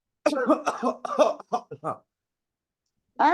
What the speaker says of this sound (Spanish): ¿Será así tos una tos seca, de un adulto mayor?